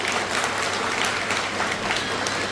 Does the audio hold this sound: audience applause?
yes